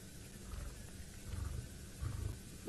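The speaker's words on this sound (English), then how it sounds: "listen to him growling, listen everyone. He's growling at the moment" A big male lion on a South African safari growls low and rumbling in a few soft bursts, fairly faint against quiet outdoor surroundings, with a louder brief noise at the very end.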